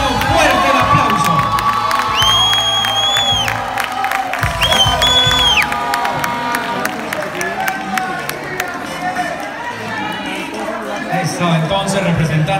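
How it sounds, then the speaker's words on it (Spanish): Loud crowd cheering and applause greet the crowning of a student beauty queen in Antioquia, with high-pitched shrieks and whoops over steady clapping and excited voices shouting throughout. "Londoño, fuerte el aplauso."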